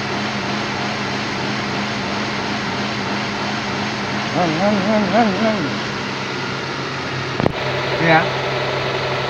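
A Honda Civic Ferio engine idles with a steady low hum, wavering and surging briefly at part throttle. A short spoken word comes near the end.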